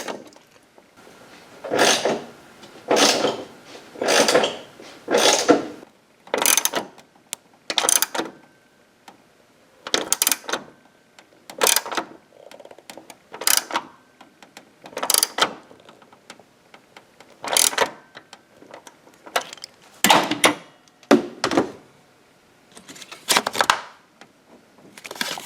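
A battery hold-down bolt with worn threads is ratcheted tight, giving a long run of close, repeated mechanical clicking bursts in short rhythmic clusters with brief pauses and no talk.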